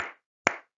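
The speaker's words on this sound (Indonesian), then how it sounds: "Tepuk tunggal, tepuk ganda, tepuk tunggal," Two sharp, isolated hand claps, one short clap followed after a gap by a louder one, sounded during a primary-school class session in a quiet room with no talking.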